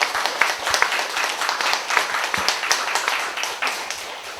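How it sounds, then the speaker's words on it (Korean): An audience applauds at a talk and Q&A event, a dense, steady patter of many hands clapping close by that continues for several seconds. "박수 한번 부탁드리겠습니다"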